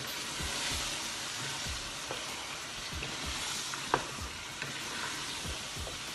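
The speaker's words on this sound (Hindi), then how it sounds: "इन चीज़ों को मिक्स करें" Aloo qeema sizzling loudly in a pan on a full-flame stove while being stirred, a constant close frying hiss broken by soft scraping strokes and one sharper knock of the spoon.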